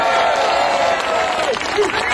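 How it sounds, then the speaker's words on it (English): Audience applause for Rebecca Heimlich, Ohio state director of Americans for Prosperity, at an Ohio Senate Bill 5 gathering: a steady wash of clapping from a crowd, fairly loud and continuous, with faint voices mixed in. "one more round of applause for Rebecca Heimlich with Americans for Prosperity, State Director"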